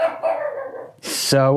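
A dog gives a short bark or two near the end, sudden and close, right after a person talks.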